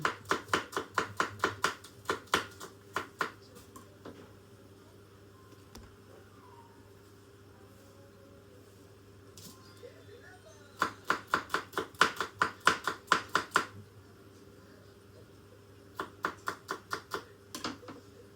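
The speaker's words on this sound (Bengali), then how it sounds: "পেঁয়াজ কাটা শেষ।" A knife chops onions on a board in quick, even bursts of close, crisp strokes, separated by quiet pauses in a home kitchen.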